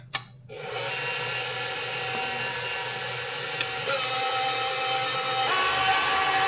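An electric mixer beats cookie dough with almond, vanilla and eggs, a steady close whirring motor drone that holds for several seconds with a slight pitch shift partway and one small knock.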